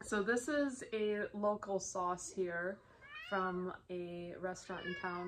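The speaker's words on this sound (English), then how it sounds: "Sorry about my cat here." A house cat meows repeatedly and insistently, its calls rising and falling close by while someone talks over it about a local restaurant hot sauce.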